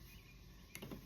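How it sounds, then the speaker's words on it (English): Faint steady cicada chirring outside in the background, a constant high buzz with a brief soft rustle near the end. "Do you hear the cicadas outside?"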